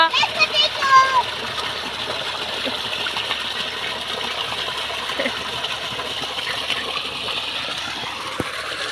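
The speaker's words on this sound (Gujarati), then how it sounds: "કેવું પાણી આવે છે જો" Water gushing and splashing steadily as a small child plays, with a voice and chatter over the flow near the start and an occasional sharp click.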